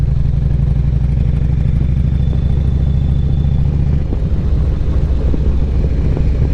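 A motorcycle on a street ride through a town, steady loud engine drone with wind rumble from the rider's position, the tone shifting slightly partway through.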